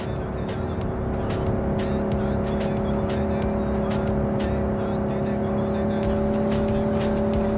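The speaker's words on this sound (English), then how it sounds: "Drive, Jackie, just drive." Car driving in Cyberpunk 2077, a steady engine drone with a sustained tonal hum and scattered tire and road noise throughout, loud and continuous with no talk.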